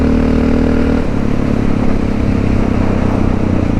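Honda XR650L single-cylinder dual sport motorcycle riding on a country road, its engine droning loud and steady throughout with a constant thumping rumble and wind noise.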